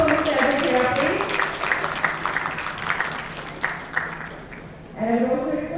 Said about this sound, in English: Can I have you round of applause for Mr. Ajay Kira, please?